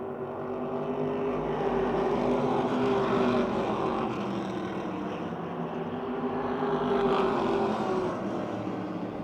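Race cars, including the Viglione Racing 60 and the number 04 car, battle wheel to wheel at Motordrome Speedway, their engines droning loud and close in a continuous, swelling roar.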